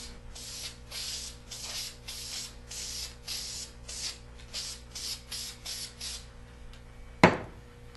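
Spray paint can laying a coat onto a scuffed, wiped-down wood project: a series of short hissing bursts in steady rhythm, close and clear, ending with a brief sharp knock.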